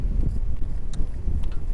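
Steady, rumbling wind buffets the microphone while riding an electric scooter on a rainy, windy day, a constant broadband roar with faint ticks and patters throughout and no voice heard.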